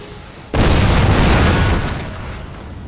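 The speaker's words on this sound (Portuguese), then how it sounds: "Vai lá, canhão." A cannon fires in Napoleon: Total War, a sudden loud boom that hits hard and then rumbles on for about a second and a half before easing off into the battle noise.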